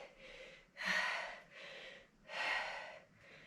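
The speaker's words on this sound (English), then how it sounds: "Do you hear me breathing?" A person working out breathes heavily into the microphone, loud rhythmic inhales and exhales in long, airy bursts with a gasping edge, close up and without speech.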